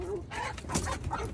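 Backyard chickens, including Black Orpingtons, squabble and cluck in quick, busy bursts, close by and fairly loud, with scratchy rustling mixed in.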